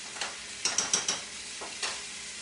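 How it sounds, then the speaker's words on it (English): Celery and onion are stirred in a pan, giving a few quick scraping strokes over a quiet sizzle, close and soft, with no talking. "Then I'm gonna add that celery and onion to it. Give it a good stir here."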